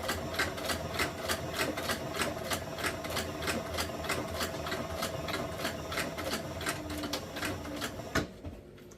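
Sewing machine stitching along the edge of a leather knife sheath, a steady fast mechanical clatter of regular needle strokes running continuously, then stopping abruptly near the end.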